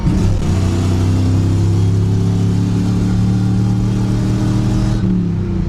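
A Chevy Nova sedan with a swapped-in V8 pulls hard in passing gear, its engine droning loud and steady with a deep, throaty roar throughout, close up and with no talking.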